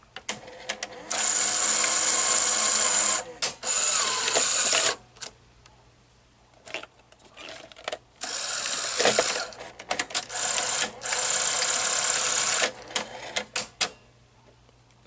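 A Sony GCS-50 industrial Betamax editing VCR running its eject cycle, loud close whirring and ratcheting of gears and motors in several bursts, with short pauses and clicks between them.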